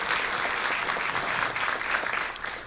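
An audience at a TED talk applauds steadily, a dense, even patter of many hands clapping close by that fades slightly at the end, with no voices over it.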